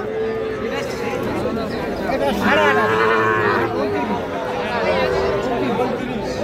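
Young bull calves moo steadily amid a noisy crowd, low bellowing calls rising over continuous chatter and talk at a busy livestock market in Faridpur, Bangladesh.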